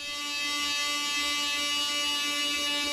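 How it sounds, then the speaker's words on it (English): An oscillating multi-tool with 60 grit sandpaper sands melted plastic on a Maxtrax recovery board, a steady high buzzing whine with fixed tones that holds even and close throughout. "I used some 60 grit sandpaper on an oscillating multi-tool to finish the surface"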